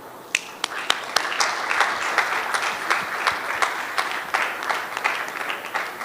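A large audience at a public event applauds a government minister, a loud, dense and continuous burst of clapping from many hands in which a few sharp individual claps stand out near the start.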